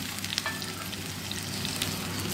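Chillies sautéing in a hot pan while a raw banana stir-fry with whole moong dal is prepared, giving a steady close sizzle and crackle with a few sharp pops, no voices.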